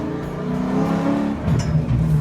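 An SN95 Ford Mustang under way on a test drive, its engine droning steadily up close inside the cabin and rising briefly as the throttle opens, with no talk.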